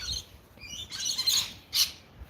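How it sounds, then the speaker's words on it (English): Birds chirping and tweeting in a suburban backyard in Melbourne, Australia: short high calls and a few louder bursts of song, fairly near, with no talking. "All the birds are out."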